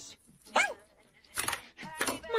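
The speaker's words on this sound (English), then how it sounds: "My childhood dog, Biscuit!" A pet dog barking in a text-to-speech storytime, giving a few short yips and barks spaced apart, mixed with synthetic speech.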